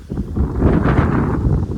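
Strong wind gusts buffet the microphone on a hillside just after rain, a loud rushing roar that swells and stays heavy throughout.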